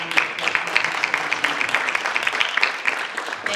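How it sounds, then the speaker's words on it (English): A meeting audience at a district budget workshop gives a round of applause: dense, steady clapping from many hands, loud and continuous throughout with no voices standing out. "have a round of applause"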